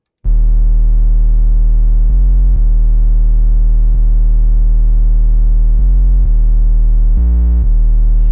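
A loud, heavily distorted sub bass drone plays alone in a steady repeating pattern, shifting pitch briefly a few times.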